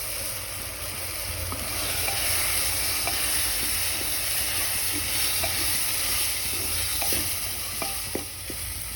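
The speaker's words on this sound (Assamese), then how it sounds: "গেছটো মিডিয়ামত দিছোঁ, মিডিয়ামত দি অলপ ভাজি আছোঁ।" Tomatoes frying on a medium gas flame for masoor dal, a steady close sizzle with hiss and occasional crackles and stirring clicks throughout.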